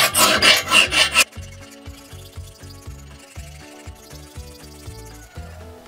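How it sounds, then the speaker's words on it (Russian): A hand file rasps along a marked line while making a homemade fishing spoon lure from a coin, a CO2 canister and a skewer, starting with harsh scraping strokes, then lighter rhythmic rubbing strokes against faint background music. "Снимаем напильником по линии."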